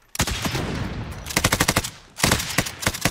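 Rapid automatic gunfire in the shooter game Warzone, loud and close: a long dense burst, a string of distinct shots, a short pause, then another volley with separate cracks. No voices.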